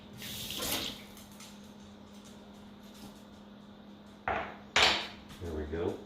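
Tap water runs briefly into a cooking pan in a kitchen, with two or three short splashing bursts near the end over a steady low hum.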